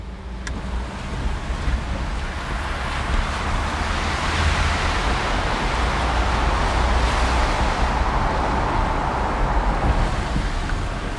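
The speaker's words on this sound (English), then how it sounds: "So this car sounds like an aircraft taking off, because it's just the sound of the battery." A Tata Nexon EV electric car drives along with a steady, rushing roar like an aircraft taking off, blended with wind and road noise, swelling slightly mid-drive and continuing without talk.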